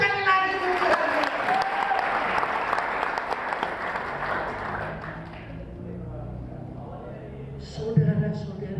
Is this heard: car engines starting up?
no